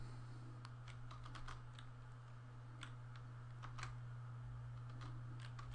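Java code being typed on a computer keyboard produces quiet, irregular clicking keystrokes over a low, steady electrical hum, with no speech.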